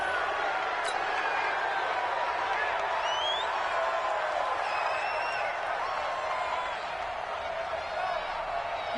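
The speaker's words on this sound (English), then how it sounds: "Listen to this crowd now." A large video game stadium crowd at an American football game (Madden NFL 20) roars in a steady, dense wash of cheering with occasional whistles and shouts, continuous and fairly loud throughout.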